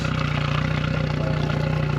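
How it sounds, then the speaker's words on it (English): A RIB boat's outboard engine, just out of winter storage, runs at a raised idle, a loud, close, steady mechanical drone with rapid regular pulsing and light clatter that continues alone throughout. "So we have it revved up a little bit."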